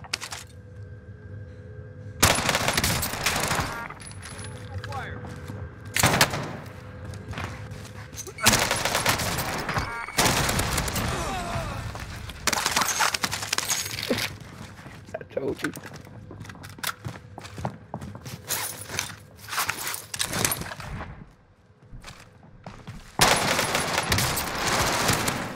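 Bursts of automatic gunfire and scattered shots in Call of Duty Cold War, loud and repeated, with quieter gaps between volleys and game voice callouts in between.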